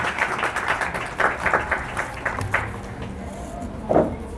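An audience at a literary society book release gathering claps to welcome the speaker, scattered moderate applause heard in uneven bursts rather than a full roar.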